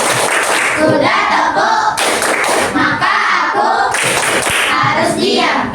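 A group of children in a classroom doing a rhythmic clapping game, with loud, dense, close clapping bursts repeating in short patterned phrases and no clear talk.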